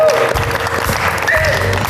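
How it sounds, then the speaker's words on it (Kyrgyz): An audience in a TV studio applauds with dense, continuous clapping throughout, while a host speaks over it. "Бул биздин коноктор Тилек мырза менен кыз жөөккө каттуураак кол чаап коелучу"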